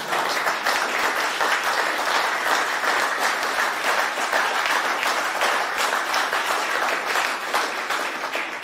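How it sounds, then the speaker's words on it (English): An audience at a political press conference gives sustained applause, a dense, even wash of clapping lasting throughout with no speech. "And you ought to really clap really loud for that."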